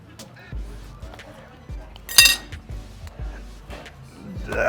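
A steak knife saws through a Tomahawk steak on a plate at a Boulder steakhouse, with several dull scraping strokes and a sharp clink of metal on the plate partway through, close up.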